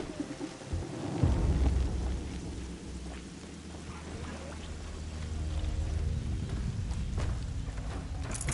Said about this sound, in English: I wonder if it's a big storm this time.